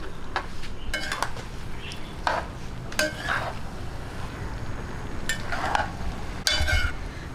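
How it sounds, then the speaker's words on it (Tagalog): Pansit bihon noodles with squid tossed in a pan, with irregular scraping and clinking of a utensil against the metal over a low steady sizzle, close and fairly loud, without talk. "Mix lang po natin mabuti"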